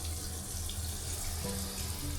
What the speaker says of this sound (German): oder man gießt das Wasser hier und überflutet das ganze Bad.